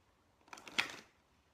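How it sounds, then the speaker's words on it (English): Cards from a goddess oracle deck are shuffled in a brief, soft burst of riffling flutter that peaks once, quiet and close in a calm room. "So you're gonna shuffle your cards."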